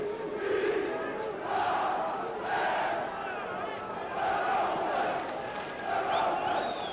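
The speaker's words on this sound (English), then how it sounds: "the only voices you can hear singing in the crowd are all red and white at the moment" Rugby league crowd at Craven Park during a Hull KR vs Hull FC derby chants in rhythmic, swelling waves, a mass of distant voices singing in repeated surges.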